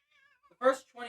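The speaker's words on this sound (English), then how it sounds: "We have a calico cat who's currently joining us for the session." Calico cat meowing indoors, two short, fairly close meows after a faint voice, with brief speech at the start.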